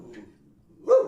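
A single short dog bark lands close and loud at the end after a quiet, low murmur.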